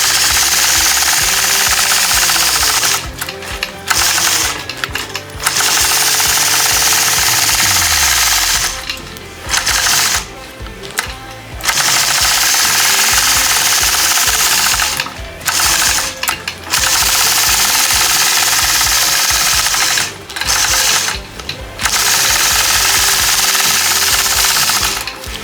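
A quilting machine stitches curved crosshatching lines with a loud, close, continuous rapid hammering drone that stops briefly several times before resuming, with no talking.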